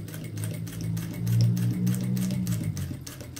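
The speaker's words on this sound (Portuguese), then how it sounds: "Eu estou usando na minha máquina um ponto mais largo." A sewing machine stitches a pink bag with a wide stitch, a fast, steady mechanical whir and patter running continuously at close range, without any voices.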